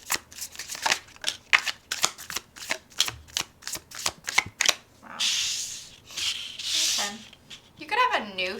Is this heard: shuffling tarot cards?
yes